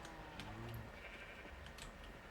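A sheep in Minecraft gives a short bleat, faint and low in level over a quiet game background.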